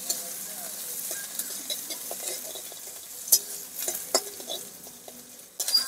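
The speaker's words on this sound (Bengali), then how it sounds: "পেঁয়াজগুলোকে হালকা ভাজা ভাজা করে নেব।" Chopped onions fry in oil with cumin and asafoetida, giving a soft, continuous sizzle broken by scraping stirs and light clicks of a utensil against the pan.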